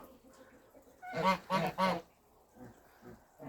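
Geese in a farmyard enclosure give three loud, close honks in quick succession, with quieter honking and softer calls before and after.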